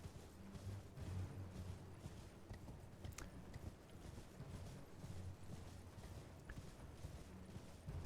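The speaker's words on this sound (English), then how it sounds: "Get on your horse." Horse hooves clip-clopping in the video game Elden Ring, a steady rhythmic trotting under a dense, rumbling game soundscape; fairly quiet overall with no talk.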